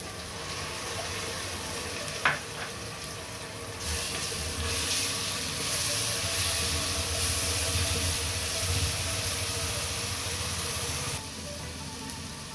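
Ginger garlic paste frying with browned onions in a pan for palak gosht (spinach and beef curry), a steady loud sizzle and hiss that swells after a brief clink, continuing alone before easing near the end.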